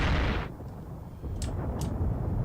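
A tank struck by a shell in a Tunisia 1943 war game: a heavy booming blast that fades to low rumble, with two faint, brief sharp clicks after.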